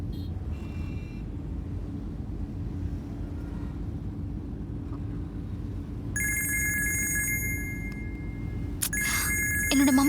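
A phone rings during a Tamil movie scene, its bright electronic tone starting partway through and repeating over a steady low background rumble, with no talking.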